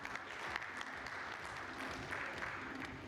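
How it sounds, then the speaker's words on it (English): Conference audience at a food summit in India applauding, steady dense clapping from many hands, moderately distant and even throughout. "Can we have a huge round of applause for her?"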